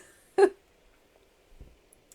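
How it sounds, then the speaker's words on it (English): A single sharp hiccup, close and fairly loud, followed by a quieter second catch about a second later, with near silence around them. "Sorry, hiccups."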